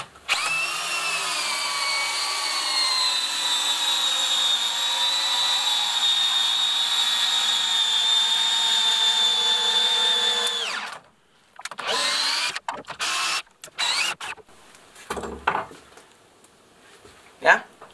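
Cordless drill driver on a 2 Ah battery pack driving a long screw, a loud steady motor whine held for about ten seconds before stopping, followed by clattering handling noises and someone speaking.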